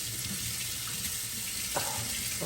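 Water runs steadily from a kitchen sink tap in a hissing, unbroken stream while concrete grout is being cleaned up, with a faint clink partway through.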